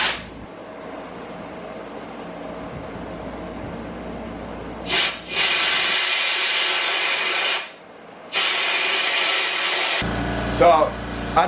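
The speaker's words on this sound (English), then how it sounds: "I don't know if you can hear me right now over the air compressor" An air compressor runs in a shop while someone works on a GT500 Mustang with a 3.7 V6, a steady loud mechanical drone broken by two bursts of harsh blasting noise and a few sharp clunks.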